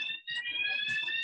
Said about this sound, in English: this is the fire alarm, which is just a test